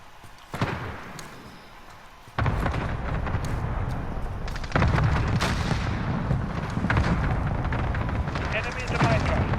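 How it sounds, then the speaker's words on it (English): In a Call of Duty Modern Warfare team deathmatch on the Gunrunner map, a cluster strike sets off a run of heavy, rumbling explosions. The blasts roll on for several seconds, close and loud, and sharp gunfire cracks through them. "Allied cluster strike inbound."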